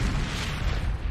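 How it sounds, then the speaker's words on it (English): A deep, rumbling explosion set off with a plunger detonator rolls in as a sustained low boom, loud and alone without voices. "Another explosion! This time from the north."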